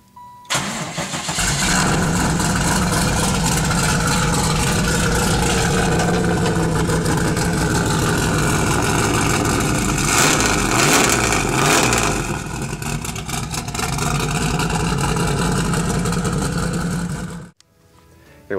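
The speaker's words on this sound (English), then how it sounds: "we're going to go ahead and fire this up for you so you can hear it." A 1994 Chevrolet Camaro Z28 Hennessey build with a 383 stroker LT1 V8 and six-speed starts up, then holds a loud, steady rumbling idle with a few throttle blips, close and alone before cutting off.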